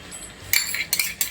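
Butter chicken curry stirred in a pan after Amul fresh cream is added, three quick metallic clinks and scrapes of a spoon against the pan, close and without talk.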